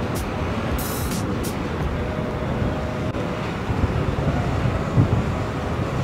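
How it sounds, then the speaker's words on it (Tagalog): Strong wind over Manila Bay buffets the microphone in a steady, loud, broadband rush, with a few sharper gusts early on and a thicker roar toward the end. "medyo malakas yung hangin ngayon dito sa Manila Bay"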